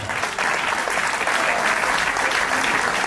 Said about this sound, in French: Applaudissements très fort pour cette jeune dame